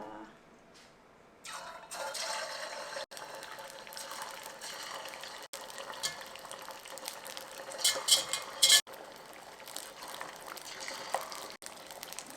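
Tofu for agedashi tofu sizzles and crackles steadily as it deep-fries in oil at about 163°C. The bubbling fizz is close and fairly quiet, with a few sharper pops and clicks.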